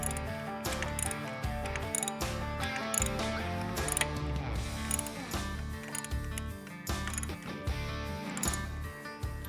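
Screw being driven into a Harley-Davidson Touring or Softail motorcycle floorboard, a steady run of rhythmic mechanical clicking and whirring from a ratcheting tool close by, with no talking.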